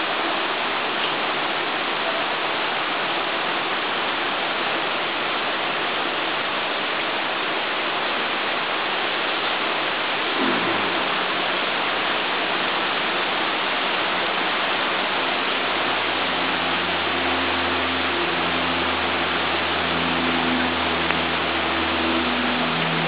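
Rain falls steadily in the Maldives as a constant, even wash of hiss, close and full without letup, while a faint low hum drifts in toward the end.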